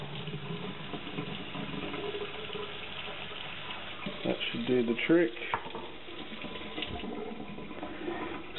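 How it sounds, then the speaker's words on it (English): Water is poured onto peat pellets to soak them for chilli seeds, giving a soft, muffled trickle and splash at moderate distance that swells briefly mid-way, while someone speaks a few words. "Don't want to put too much water in, but just enough to soak it through so that they rise up to a nice height"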